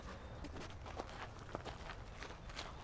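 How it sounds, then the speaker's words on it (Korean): Footsteps crunch on a gravel path in a botanical garden, a steady walking rhythm of soft, close scrapes at low volume with no other sounds. "이 발자국 소리. Gravel."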